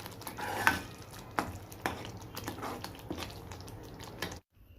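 Chole masala being stirred in a pan, with a spoon scraping the thick masala in irregular strokes over a soft background sizzle, close and moderately quiet, ending in a brief silence.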